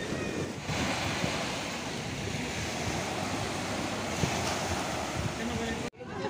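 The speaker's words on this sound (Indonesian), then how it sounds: "Oke guys, ini kita sedang ada di pantai." Surf rolls and washes onto a busy beach in southern Bengkulu on a holiday crowd day, a dense continuous roar with wind buffeting the microphone, loud and close, cutting off abruptly near the end.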